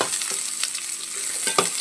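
Onion and dried red chillies fry on low heat in a pan for a Telugu shorba, a soft continuous sizzle with a few light stirring scrapes, close and without talk.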